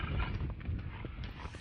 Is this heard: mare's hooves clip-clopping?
yes